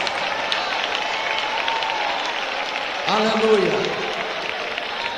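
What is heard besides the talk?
church congregation clapping hands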